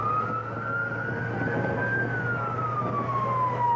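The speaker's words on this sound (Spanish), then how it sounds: "Déjeme el sonido ambiente de la ambulancia." Ambulance siren wailing steadily as the vehicle speeds along an exclusive bus lane on the Metrolínea route, a loud continuous rising and falling tone over constant engine and road rumble, with no talk.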